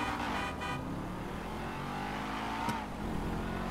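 A car engine in a PC racing video game hums and revs steadily at close range, with a brief horn-like toot partway through and a steady drone throughout, no talking.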